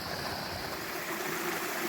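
Small 4-5 foot waterfall spilling into a dip pool on Blackden Brook, a moorland stream in the Peak District; steady, close rushing and splashing water fills the whole stretch at an even level, with no voices.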